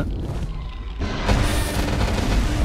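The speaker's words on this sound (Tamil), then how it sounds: "வெடிக்கிற பவர் போடுறான்" An explosive power attack in the video game ARK Mega Kaiju bursts in as a deep, booming blast partway through, followed by a sustained rumbling roar over a low background drone.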